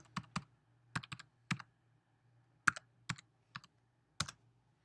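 Computer keyboard keys tapped to enter a library card number, a sparse series of about a dozen crisp clicks in small uneven bursts with short pauses between, close and alone over a faint background hum.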